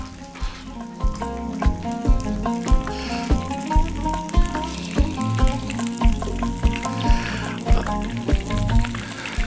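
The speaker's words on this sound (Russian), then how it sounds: "Каждый ломтик мяса, каждую голяшку непременно в масло." Slices of beef shank fry in hot oil with a steady sizzle, joined by repeated rhythmic thuds and clatter from cookware, while someone talks over the cooking.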